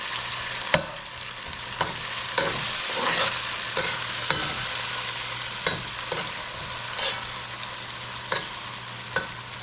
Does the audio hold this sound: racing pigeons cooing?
no